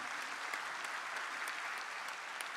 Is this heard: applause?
yes